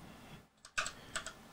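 An EYOOSO Z19 mechanical keyboard gives a few faint, quiet key clicks in quick succession in a short burst.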